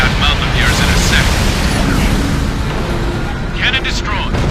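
In the Ace Combat Infinity flight game, an enemy cannon is blown up during a mission flown in an X-02 Wyvern jet: loud, rumbling explosion booms roll on continuously, with brief voice chatter over the din.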